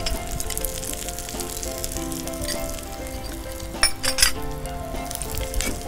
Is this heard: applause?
no